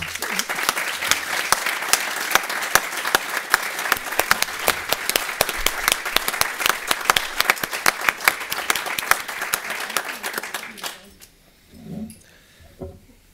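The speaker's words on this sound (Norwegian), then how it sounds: "Så igjen, en applaus til fylkesmusikerne." Applause at a county council meeting fills a large room with crisp, dense clapping from many people for about eleven seconds, then fades quickly into quiet with a few low murmurs and thumps.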